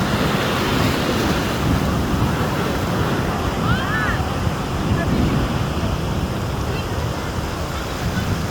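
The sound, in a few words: ocean waves breaking on shore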